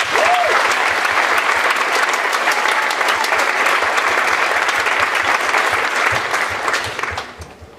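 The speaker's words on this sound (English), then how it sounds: "Please give a round of applause to this amazing journalism teacher." A school audience applauds a journalism teacher at a short film premiere, a loud sustained wash of many hands clapping that carries on for several seconds before fading out at the end.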